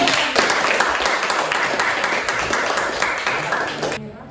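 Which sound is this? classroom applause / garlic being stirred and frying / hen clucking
classroom applause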